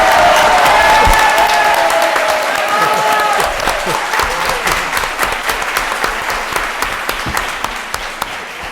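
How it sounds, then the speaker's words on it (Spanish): A tarot congress audience in Barcelona breaks into loud, sustained applause that gradually thins into scattered individual claps, with some voices and cheering mixed in near the start. "Un fuerte aplauso."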